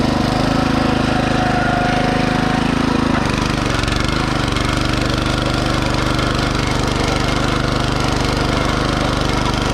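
A Champion BC5712 motor cultivator working a potato patch, its small petrol engine droning loud and close, the pitch shifting as it revs up partway through, with no talk over it.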